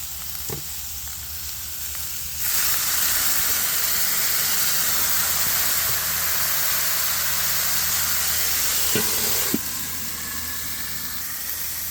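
Vegetables in a stir fry pan hiss and sizzle loudly as they steam, a sudden burst of steady hissing that starts abruptly, holds for several seconds, then cuts back to a quieter sizzle.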